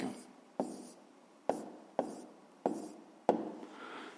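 A pen writing an answer by hand on paper for a fifth-grade maths exercise: six crisp, close taps and scratches at irregular intervals over a quiet background.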